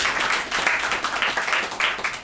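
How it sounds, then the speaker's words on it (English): A congregation at a Shabbat morning teaching claps for a visiting brother from Beit El, short uneven bursts of hand claps from a modest group, fairly close and pulsing rather than a steady roar. "Let's give him a round of applause."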